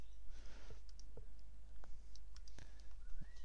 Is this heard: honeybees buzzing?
no